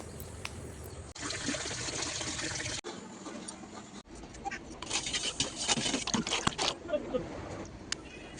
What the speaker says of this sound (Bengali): উনি রোজ নিয়ম করে তুলসী তলায় জল দেয়